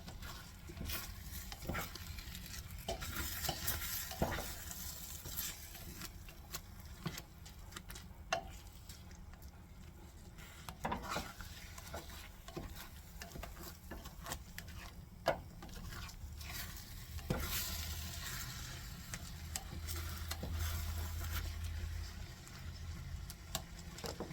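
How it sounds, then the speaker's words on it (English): Scrambled eggs sizzle and are stirred in a frying pan, a steady crackling fry with scattered clicks and scrapes of the utensil, close and moderately quiet, with no talking. "they should start to resemble scrambled eggs here."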